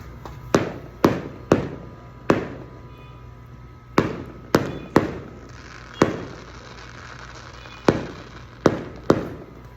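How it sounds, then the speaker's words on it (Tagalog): Fireworks bursting outdoors, a series of about a dozen sharp loud bangs at irregular intervals, each followed by a short decaying rumble, with a quiet background between blasts. "But there's fireworks."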